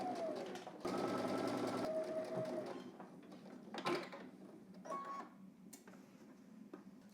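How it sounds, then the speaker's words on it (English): A sewing machine stitches down a fly seam on a garment with a steady whir that lasts about a second. Quieter mechanical clicks and handling sounds follow, close and faint, with no talking. "So head to the machine. We're just going to stitch this down using 3/8 seam allowance."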